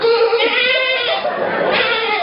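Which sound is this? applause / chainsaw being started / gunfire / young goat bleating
young goat bleating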